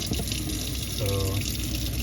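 Water runs steadily from a tap into a pot of brown rice in a kitchen, a continuous close splashing pour across the whole stretch with a faint voice briefly underneath.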